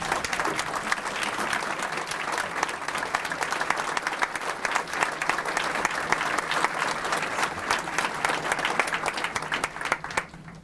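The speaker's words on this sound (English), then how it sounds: "give this distinguished person just a round of applause, a good Muskegon County welcome, Mr. Harvey" Sustained applause from a large audience at a Martin Luther King Jr. unity breakfast fills the whole stretch, a dense, even roar of clapping that tapers off slightly at the very end.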